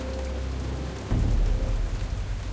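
Steady rain pours throughout a stormy night scene in Jurassic Park The Game, with a deep rumble of thunder swelling in partway through and rolling on at close, loud level; no one speaks.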